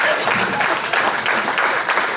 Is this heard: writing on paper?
no